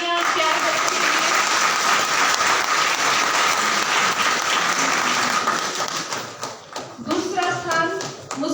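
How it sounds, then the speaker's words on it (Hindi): Loud, close applause for students at an agri-fest held at a government horticulture venue: dense clapping for about six seconds, then tapering off into scattered claps as a voice speaks over the end. "एक बार जोरदार तालियां प्यार बच्चों के लिए।"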